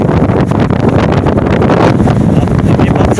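Strong typhoon wind roars steadily with heavy buffeting against the microphone, a dense, loud broadband rush near the shore, with waves faintly mixed in and no speech.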